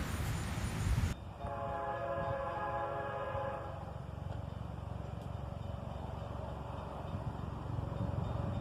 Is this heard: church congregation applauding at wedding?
no